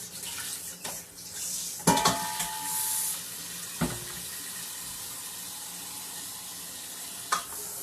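A bowl being rinsed under a running kitchen tap, with a soft steady water stream, a few sharp clunks and clatters of the bowl against the sink, fairly quiet and close.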